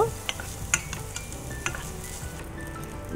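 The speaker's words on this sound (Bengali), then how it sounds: "চালটা দিয়ে দিলাম ওই ঘির মধ্যে, হালকা ভেজে নেব" Rice grains frying lightly in ghee in a pan, a soft steady sizzle with a few sharp stirring scrapes and clinks near the start and middle, close and fairly quiet with no talking.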